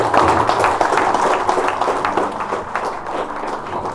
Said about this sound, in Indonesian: Tepuk tangan untuk Kenyam.